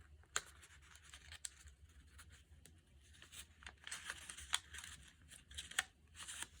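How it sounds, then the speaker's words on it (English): Colored pencil rubbing back and forth across paper laid over a coin, a soft, quiet scratchy scraping in uneven strokes with a few sharper ticks, close up and with no talking. "And then you just rub, and the design magically appears."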